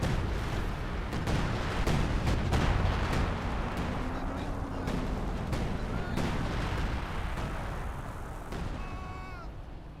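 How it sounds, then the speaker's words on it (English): Assault artillery barrage in Company of Heroes 2, a dense run of booming shell impacts and gunfire thuds rolling on steadily over a loud battlefield din, with a voice talking faintly beneath. "Now the assault barrage being summoned."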